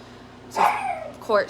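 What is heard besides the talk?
dog barking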